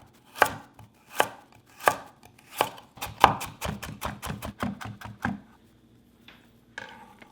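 A knife chops zucchini and carrot into matchsticks on a cutting board, starting with several slow, heavy cuts and speeding into a rapid run of crisp, close taps before a pause.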